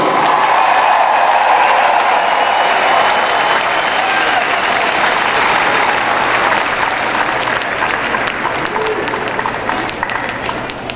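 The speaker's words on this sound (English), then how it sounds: "One more glorious applause for our flag bearers and their representatives." A large audience at a general session applauding Olympic flag bearers, with loud, sustained crowd clapping and some cheering that fades slightly toward the end.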